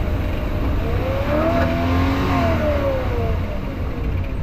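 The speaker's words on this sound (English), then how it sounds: "Acceleration continued without my input, popped into neutral, and the revs just ran free." An old barn-find car engine with a stuck throttle revs freely in neutral, its pitch swelling up and then sinking back in a single long rise and fall, loud and close.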